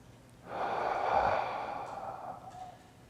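A single slow, deep breath during a hip flexor strengthening and mobility hold, a close, airy exhale swelling and tapering over a couple of seconds in an otherwise quiet room.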